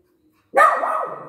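Dogs break into loud, close barking about half a second in, a single sustained burst of barks with no talk over it.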